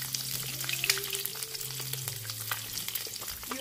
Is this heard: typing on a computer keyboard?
no